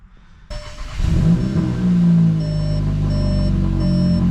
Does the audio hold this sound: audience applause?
no